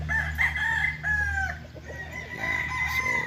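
A gamefowl rooster at Samurai Gamefarm in Alfonso, Cavite crows at moderate distance. Its drawn-out call rises and trails off, followed by softer clucks and further crowing against a low farmyard hum.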